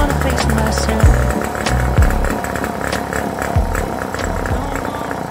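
A Motobecane Cady moped's small two-stroke engine runs with a buzzy, raspy drone close by, rising and falling through several throttle blips, while a song plays alongside it.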